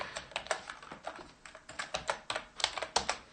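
Typing on a computer keyboard while writing script code, a quick irregular run of close, crisp key clicks with brief pauses, no voice.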